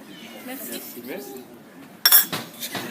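A spoon and dishes clinking at a table: a sharp clink late on after quiet murmuring, and people talk nearby.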